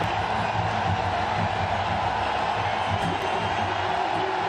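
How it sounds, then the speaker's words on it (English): A packed stadium crowd roars continuously after a six is struck in an Asia Cup final cricket match between India and Pakistan, a dense, steady wall of cheering with no talk over it. "The crowd erupt."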